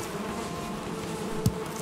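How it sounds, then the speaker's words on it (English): Steady low insect buzz of bees in Valheim, a continuous drone from a honey-producing hive, with one brief louder thump near the end. "we've got so many bees"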